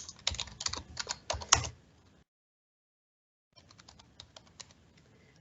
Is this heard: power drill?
no